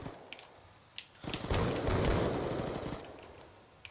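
Rapid automatic gunfire from a light machine gun in a first-person shooter's gun game mode, a dense burst of shots building then tapering, with scattered single shots before and after.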